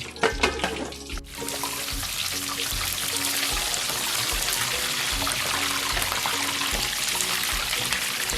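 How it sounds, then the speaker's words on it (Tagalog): Pork pata (hock) deep frying in a large pan of splattering oil: a dense, steady crackle and hiss, loud and close, running unbroken after a brief clatter at the start. "mag-ingat tayo dun sa pag-deep fry ng pata natin, no. Medyo delikado rin kasi tumatalsik ng mantika"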